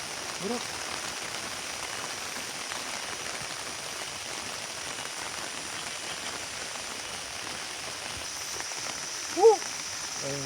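Heavy rain falls steadily at a village, a dense, continuous hiss of drops on surfaces holding an even level throughout, with a few faint voices and a brief sharp sound near the end.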